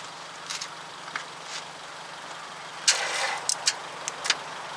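A car engine cranks and tries to start on a boost from a GooLoo GP4000 jump pack, with faint scattered clicks and a brief louder burst of cranking in the middle, fairly quiet overall.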